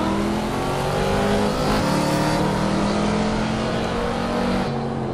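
A Chevrolet Corvette C7 Stingray in the racing game Assetto Corsa at the Spa circuit roars continuously at high revs, loud and steady, with shifting engine tones for the full stretch.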